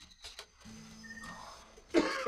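Two brief, faint coughs from a person, one near the start and a rougher, breathier one at the end, with quiet murmuring in between.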